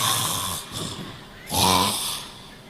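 A preacher imitates loud snoring with his voice during a comic sermon: two rough, throaty snore bursts close to the mic, the second louder and longer, with no spoken words.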